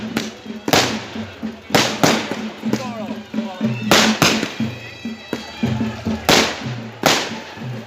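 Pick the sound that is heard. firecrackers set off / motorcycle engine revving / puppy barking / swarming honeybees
firecrackers set off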